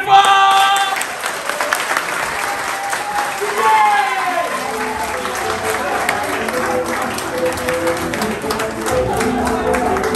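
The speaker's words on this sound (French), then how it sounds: "Il y a plein de monde, on va applaudir très fort." A crowded hall audience claps loudly and continuously at a Sara cultural performance from Cameroon, the dense applause mixed with cheering voices and some ringing tones.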